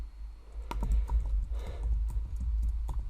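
Keys clatter on a computer keyboard in short, uneven bursts of sharp clicks, close and fairly loud, with no talking, as text is copied and pasted during a practice test walkthrough.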